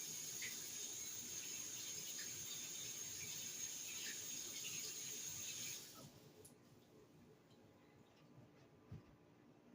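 Water runs steadily from a kitchen tap as hands are washed at the sink after handling salmon, a soft continuous hiss that cuts off partway through, leaving quiet room tone with faint clatter.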